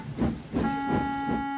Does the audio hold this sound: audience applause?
no